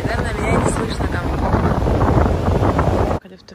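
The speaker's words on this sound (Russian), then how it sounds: "У нас сегодня очень ветрено, волны нереальные." Strong wind gusts by the sea on a day of huge waves in Genichesk, a loud steady roar buffeting the microphone that cuts off abruptly near the end.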